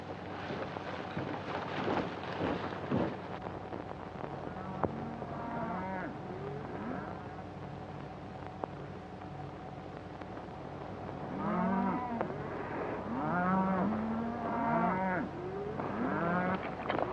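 A ranch herd of cattle lows in repeated drawn-out moos, several animals overlapping at moderate distance, quieter at first and swelling into a cluster of calls toward the end over low background noise.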